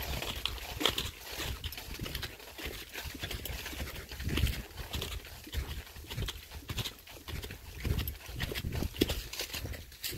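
Hooves of a buckskin gelding beat in a steady three-beat lope on a trail ride, a close, continuous rhythmic clip-clop with no talking.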